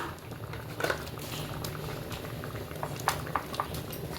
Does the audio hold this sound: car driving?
no